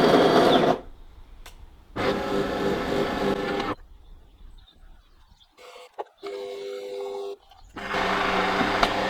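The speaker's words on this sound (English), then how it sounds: "So if I was to do espresso just normally, it's going to give us one shot of espresso." A DeLonghi Magnifica Start coffee machine brewing a single espresso shot gives loud mechanical whirring and buzzing in several bursts, separated by quieter gaps with a steady lower hum between them.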